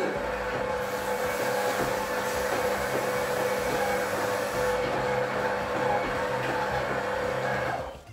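A machine kneads focaccia dough with a continuous steady motor drone, moderately loud and close, running unbroken throughout.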